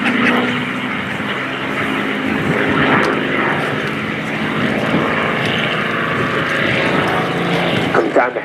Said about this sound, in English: Coming down the hill, the Spitfire gains speed rapidly.